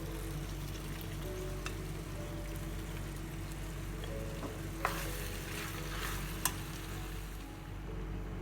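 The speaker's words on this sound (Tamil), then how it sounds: "இப்போ நம்ம பாயில் பண்ணி வச்சுருக்கிற மேக்ரோனி ஆட் பண்ணலாம்." Boiled macaroni and chicken burger pieces stirred in a pan over low heat, a continuous soft sizzle like light rain with a couple of sharp utensil knocks, no voices.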